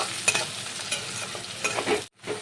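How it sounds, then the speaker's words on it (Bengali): Chopped tomatoes are stirred in a hot pan, giving close, continuous scraping and frying sizzle. The sound cuts out for a moment near the end before resuming. "টমেটো কুচি, বেশিক্ষণ একটু এবার এভাবে নেড়ে চেড়ে নিতে হবে।"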